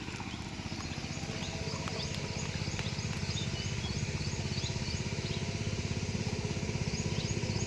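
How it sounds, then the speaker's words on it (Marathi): A tractor working on a farm field gives off a steady, rhythmic low engine chug that runs without a break for the whole stretch, fairly quiet and some distance away, with no one talking. "सकाळू ट्रॅक्टरचा आवाज येते ते बाजूला. ट्रॅक्टर आहे शेतावर."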